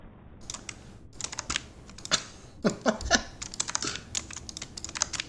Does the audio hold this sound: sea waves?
no